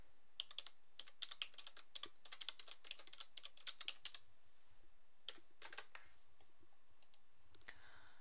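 Steady quiet typing on a computer keyboard, rapid key clicks in bursts with brief pauses, close and alone without talk.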